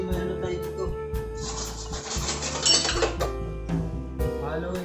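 A utensil scrapes and clinks against a pot of pork stew (nilagang baboy) as it is stirred, with a few metallic knocks and a short rasping scrape up close, while a voice talks over it.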